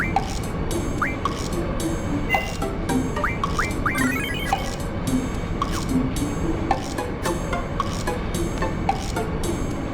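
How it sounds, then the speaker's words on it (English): A moving train in the video game Final Fantasy VIII rumbles steadily with rhythmic clatter, while short chirps and tweets sound over the continuous noise throughout. "The sound of the train moving. It's so relaxing."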